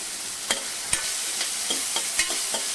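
Medium tomatoes and curry leaves hit hot oil in a pan, giving a continuous sizzle punctuated by about six sharp stirring scrapes and clicks at irregular intervals, close and with no voices.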